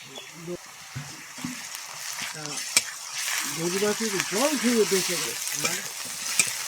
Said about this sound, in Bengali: রসুনটা ভালো করে ভেজে নিয়েছি